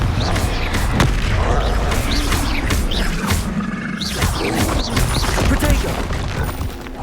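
Confringo blasting spells explode one after another in Hogwarts Legacy combat, dense booming bursts and crackling impacts filling the scene continuously, with spell voice lines under the din.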